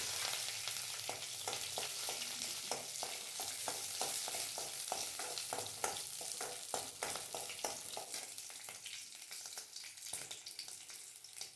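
Chillies sizzling in coconut oil in a kadai pan for a Kerala-style raw mango chammanthi, a steady crackling fry with brief stirring clicks, close and alone without voices.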